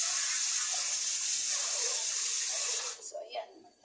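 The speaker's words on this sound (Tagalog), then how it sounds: "So ayan, maglagay tayo ng tubig." Tap water gushes steadily into a pot during home cooking, a loud, even rush that runs for about three seconds before abruptly shutting off, leaving faint kitchen sounds.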